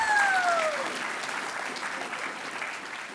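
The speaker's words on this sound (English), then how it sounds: "Give me another round of applause for the speakers." A room full of people applauds for the speakers at a US Navy signing day event in Philadelphia, steady clapping starting loud and easing slightly, with a brief tonal whistle-like sound fading early.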